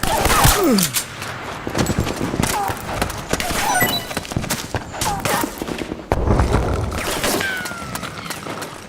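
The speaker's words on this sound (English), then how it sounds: "Suppressing fire!" Suppressing gunfire in the PS3 video game Metal Gear Solid 4: Guns of the Patriots, dense bursts of shots and impacts running throughout with battlefield shouting mixed in.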